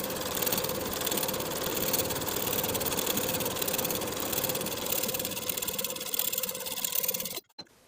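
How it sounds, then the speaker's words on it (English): A sewing machine runs continuously as it top stitches a 1/4 inch seam on the side panel of high-waist barrel pants, a fast, even mechanical whir up close that stops abruptly near the end. "we're going to top stitch with a 1/4 inch seam allowance"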